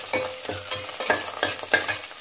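Onions and curry leaves sizzling in a pan while cooking a country chicken curry, with repeated close stirring scrapes over a steady frying hiss and no voices.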